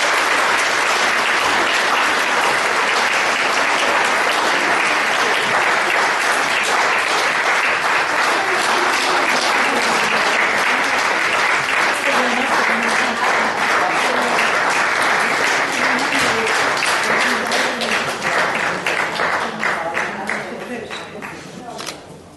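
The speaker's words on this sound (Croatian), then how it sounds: "aplauzom." Warm, sustained audience applause fills the room at a community association event, dense and steady clapping that runs unbroken for about twenty seconds before tapering off at the end.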